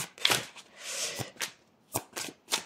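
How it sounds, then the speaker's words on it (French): Tarot cards shuffled by hand, giving a quick run of soft papery riffles and slaps, then several separate crisp taps of cards knocking together, close and fairly quiet with no voices. "on a presque les cartes qui se tapent entre elles"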